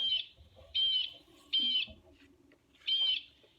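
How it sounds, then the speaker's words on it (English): A blue jay call repeats four times, clear piercing calls spaced about a second apart over a quiet background. "You might hear a blue jay."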